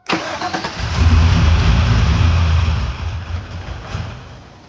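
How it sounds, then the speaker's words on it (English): A Chevrolet Silverado truck with a fuel leak cranks over and catches, a loud, close engine start settling into a steady rumble that fades slightly. "I'm gonna crank over the truck"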